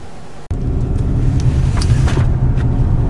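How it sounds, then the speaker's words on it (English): A 2013 Hyundai Santa Fe Sport with the AWD 2.0-litre turbo engine heard from inside while taking fast corners: a steady, loud low engine and road rumble continues throughout, broken only by a brief dropout near the start. "I'm taking some fast corners here to check out the cornerability of the Santa Fe."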